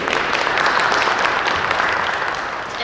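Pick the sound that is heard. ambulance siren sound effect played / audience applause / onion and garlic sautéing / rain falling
audience applause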